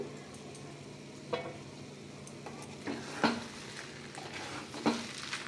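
A lid comes off a pot of chicken pulao and a spoon stirs the rice, with a few sharp metallic clinks over a soft, steady sizzle and no talking.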